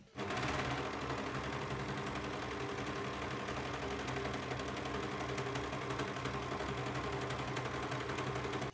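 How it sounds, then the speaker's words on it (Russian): A sewing machine runs steadily to stitch two pieces of a hat together along their full length, a loud, continuous rapid mechanical chatter close up from start to end. "совмещаем срезы и стачиваем вдоль всей длины шапочки"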